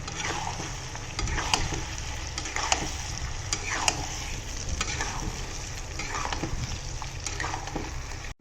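Duck meat and potatoes frying with a splash of added water on medium heat, a close, continuous sizzle broken by repeated scraping strokes of a spatula stirring the pan.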